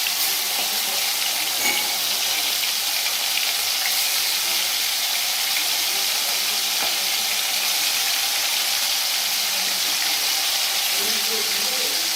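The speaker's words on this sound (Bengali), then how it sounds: "তেলটা গরম হয়ে গেছে, মাছ দিয়ে দিচ্ছে" Fish frying in hot oil in a home kitchen, a steady crackling sizzle that holds evenly for the whole stretch, close and fairly loud.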